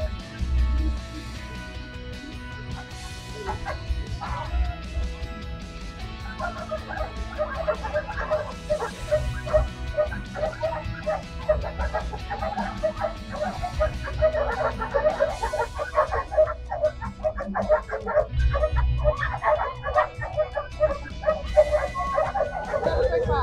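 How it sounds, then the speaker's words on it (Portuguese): Belgian Malinois police dog, a shepherd one year and four months old used for daily patrol, barks and yips in repeated bursts that grow busier after the first few seconds, over a steady low background rumble. "Nós utilizamos um cão da raça Pastor Bégua de Malinois, um ano e quatro meses, que é o cão Fox"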